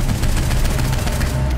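Rapid automatic gunfire in the video game Saints Row IV, a dense continuous burst of loud, booming shots with no pauses.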